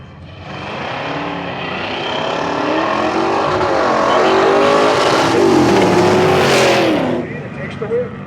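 A muscle car engine revs at a drag strip reunion event with a loud, sustained roar that builds over several seconds, holds high and then cuts off abruptly near the end.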